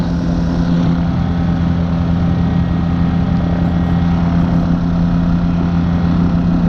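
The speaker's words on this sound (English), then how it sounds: "we want to get the engine up to temperature before we go to full power" Challenger light aircraft engine runs at warm-up RPM with a loud, steady droning hum and a strong low tone, unchanging and close, with no talk.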